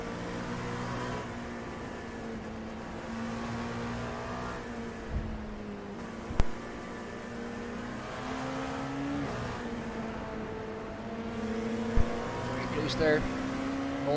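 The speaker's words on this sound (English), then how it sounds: "Let's go on board with these LMP2 cars." An LMP2 race car's engine heard from onboard hums steadily, with its pitch shifting through gear changes, beneath continuous race commentary at moderate level.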